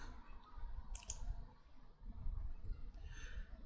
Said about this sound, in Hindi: right click